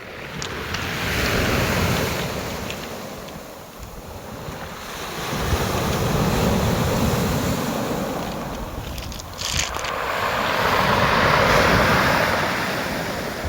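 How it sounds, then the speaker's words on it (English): Waves on a Nova Scotia gravel beach rearranging huge pebbles: surging roar of surf with rattling, grinding stones, swelling and receding in slow cycles, heavy wind buffeting the microphone, no speech. "That noise is all these huge pebbles getting rearranged by the waves."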